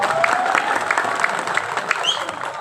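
A crowd at an outdoor political speech applauds steadily, a dense wash of many hands clapping that holds at an even level throughout, with a faint voice underneath.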